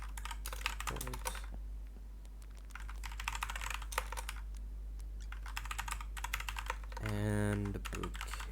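Rapid clatter of typing on a computer keyboard during a Neon White tournament call, with bursts of keystrokes broken by short pauses and a brief voice near the end.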